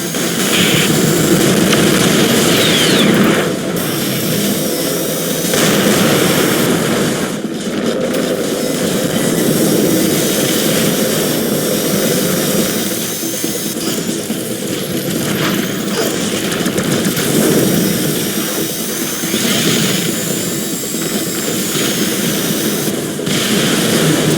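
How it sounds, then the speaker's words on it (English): Aircraft jet engines drone in the video game X-Morph: Defense, a loud, steady roar with broad noise that swells and dips slightly across the whole stretch, with no talk over it. "Another engine damaged. We're flying even slower."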